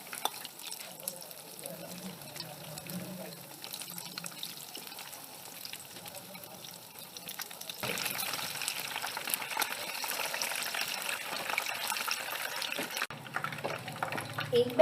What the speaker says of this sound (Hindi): इसीलिए आपने बहुत ही कम आग पे आपने इसे फ्राई कर लेना है।